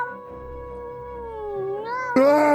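One long, drawn-out cat yowl, loud and close, wavering and dipping in pitch before swelling into a harsher, louder cry at the end, with no voices.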